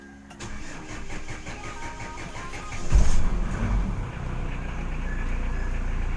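A car engine cranks and starts after its muffler has been cleaned, then settles into a steady mid-pitched idle. A louder surge marks the catch of the engine, and it keeps running evenly.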